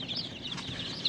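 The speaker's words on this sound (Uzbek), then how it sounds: "Şu ko'rib turgan jo'jalarimiz 5 kunlik" Five-day-old chicks in a brooder give thin, high peeps over a steady close rustle and murmur of the flock.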